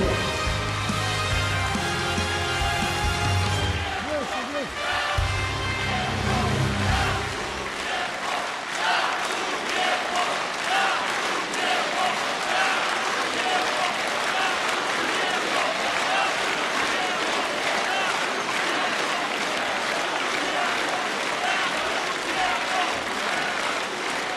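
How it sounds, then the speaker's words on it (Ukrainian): Audience applause welcomes a guest, a decorated combat veteran, at a Ukrainian veterans' association event. A voice is heard briefly at the start, then loud, dense clapping swells and continues steadily for about twenty seconds. "Прошу вітати вашими оплесками героя Микола Міньо."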